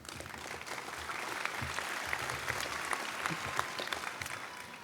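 An audience at a law school graduation ceremony claps steadily for a few seconds, a dense, moderately loud wash of hands with no voices over it.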